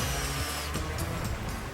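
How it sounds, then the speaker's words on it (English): Power drill boring into the wooden frame of an arched garden bridge being built outdoors, a steady close whirring drone that holds through the clip with slight surges in load. "Everything's in place to start drilling."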